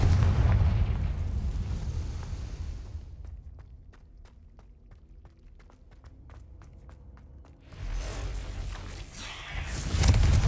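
Confringo fire spell cast in the video game Hogwarts Legacy: loud, rumbling blasts open and close the stretch, separated by a quieter passage of sparkling, chime-like magical tones.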